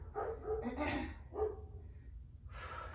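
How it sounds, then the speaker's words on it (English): A dog named as barking in the background during a home lower-body strength, Pilates and HIIT workout; a few short barks sound at moderate distance, mixed with heavy breathing and gasps. "Hello, barking dog."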